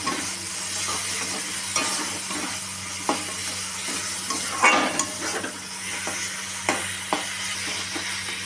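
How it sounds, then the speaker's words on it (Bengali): Chicken gravy being stirred in a frying pan, with a steady soft sizzle under intermittent scrapes and light clinks of a utensil against the pan, close and fairly quiet. "এটাকে আরও নাড়বে।"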